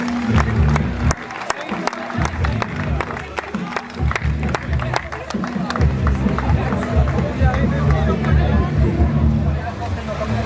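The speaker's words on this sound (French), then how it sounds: "on peut applaudir" Crowd applause and cheering for a finisher at a women's cycling race, with sharp claps over a dense, loud hubbub of voices and a low rumble from a public address system, with people talking throughout.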